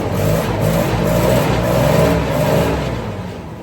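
Carbureted gasoline forklift engine revving and sputtering, a rough, uneven mid-pitched engine roar swelling and easing, close and loud, heard alone.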